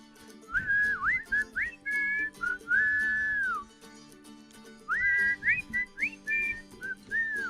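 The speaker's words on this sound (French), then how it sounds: "une petite toune, un petit sifflage" A person whistles a short, cheerful melodic tune in two phrases with a brief pause between, clear and close, accompanied by light tapping or clicking sounds.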